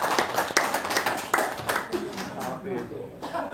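An audience at a talk claps in loose, scattered bursts, with individual hand claps standing out, mixed with chatter and a little laughter.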